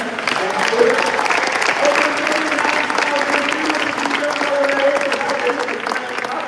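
Audience at a military fighter squadron change of command ceremony gives sustained, dense applause, steady and fairly loud throughout, with faint tonal sounds beneath the clapping.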